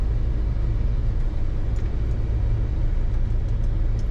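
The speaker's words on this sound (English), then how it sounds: "Very nice running truck." A 1978 Chevrolet Silverado K10 square-body pickup cruising on the road, its engine a steady low rumble with constant road and cabin drone, close and unbroken.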